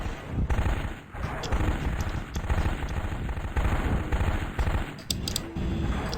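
Clan machine guns in the MechWarrior 2 mech combat game fire in a loud, continuous rapid burst that runs the whole stretch, with brief dips in the chatter.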